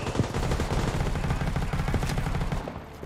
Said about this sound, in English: I'm just gonna keep on moving and take out my machine gun.